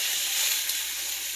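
Chicken pieces fry in a skillet with a steady, close, bright sizzle and hiss that stays even throughout, with no voices.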